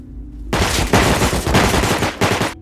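Rapid automatic gunfire in a survival video game fight, loud and dense, coming in several sustained bursts with brief gaps between them.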